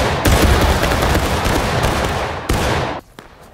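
Loud, close musket volley from a line of soldiers in the Civil War video game War of Rights, a dense crackling burst of many shots that rolls on for a few seconds before cutting to a quieter tail.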